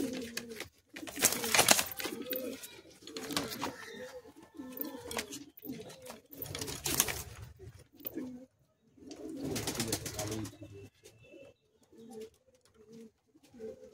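Andhra pigeons cooing in low, throaty rolling phrases close by, interrupted by bursts of wing flapping and rustling movement, fairly faint overall and heard in the evening.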